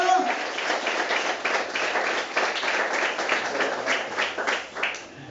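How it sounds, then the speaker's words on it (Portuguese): Congregation applause in a church service, rhythmic clapping in pulses with a voice carrying over it, bandlimited and fairly loud. "Palmas para o Senhor Jesus."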